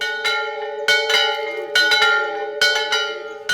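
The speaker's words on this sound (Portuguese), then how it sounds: "os sinos da Chácara de Santa Cruz soaram" Church bells at the Chácara de Santa Cruz, Canção Nova, ring out at six in the morning, loud resonant strikes repeating in a slow, uneven rhythm with long ringing tails, heard alone.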